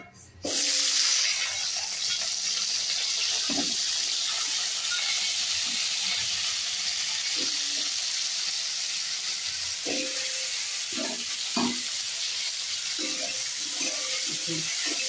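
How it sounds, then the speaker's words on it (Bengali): Potato and cauliflower fry in oil in a pan with a loud, steady sizzle and hiss that runs almost the whole time, broken by faint clinks of utensils. "এবার আমি এটাকে ভেজে নিই, পরে ফোড়ন দেবো।"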